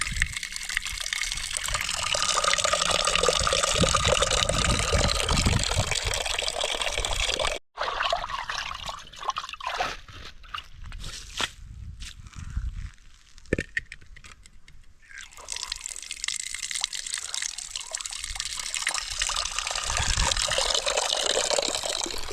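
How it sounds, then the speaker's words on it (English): Tap water runs hard into a cooking pot for several seconds, cuts off with a sharp break, then gives way to scraping and sloshing as the pot is swirled, before the full gushing stream returns. "So we are going to rinse our pot."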